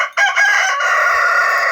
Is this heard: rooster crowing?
yes